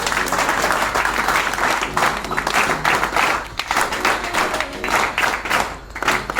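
Loud, sustained applause from a crowd at a recovery birthday and foundation day celebration, dense steady clapping that fills the room for several seconds.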